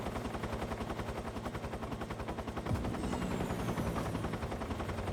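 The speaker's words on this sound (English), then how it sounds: "That helicopter be around, yo." Helicopter rotor chopping steadily through a video game scene, a loud continuous rhythmic thud mixed with rapid gunfire-like bursts and a shift in tone partway through.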